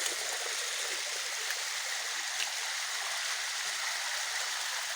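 A stream flowing, heard as a soft, continuous rushing hiss of water, even and unbroken throughout, with no voices.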